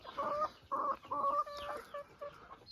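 Bantam Cochin pullets cluck outdoors in a run, giving a series of short, fairly clear, close clucks in uneven bursts with small gaps between them.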